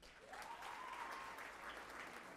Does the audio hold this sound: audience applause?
yes